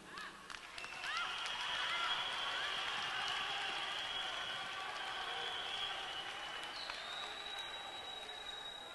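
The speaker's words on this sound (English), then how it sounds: "We must applaud" An audience applauds Gauteng Premier Panyaza at a political gathering, a faint, distant wash of clapping that holds steady for several seconds alongside a thin sustained high tone.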